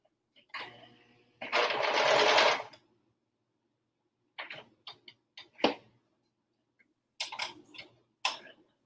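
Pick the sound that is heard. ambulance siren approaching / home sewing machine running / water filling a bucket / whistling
home sewing machine running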